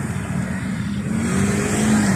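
Steady road traffic in the early morning, cars passing continuously with a broad engine and tyre rumble that swells slightly toward the end, no voices.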